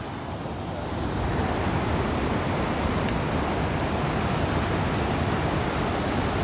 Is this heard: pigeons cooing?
no